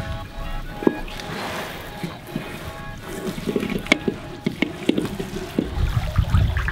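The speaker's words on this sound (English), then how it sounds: "We're about to haul back this net." A fishing net full of plastic is hauled out of river water onto a boat. Water splashes, drips and trickles close by, with scattered wet thumps and knocks building toward the end.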